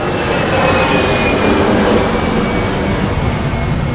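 An airplane passes overhead outdoors, a loud, steady broadband roar that fills the whole stretch without letting up.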